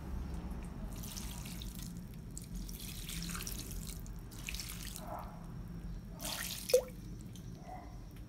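Water dripping from a freshly watered plant pot onto another pot below, a few soft splashy drips and trickles over a steady low background, with one sharper drop near the end.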